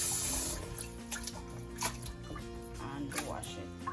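Hydrated sea moss being washed by hand in water, with close sloshing, dripping and splashes while a person talks over it.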